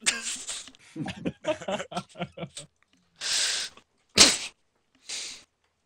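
Someone talks, then a few sharp, loud sneezes burst out in quick succession, each short and breathy, the loudest one near the end.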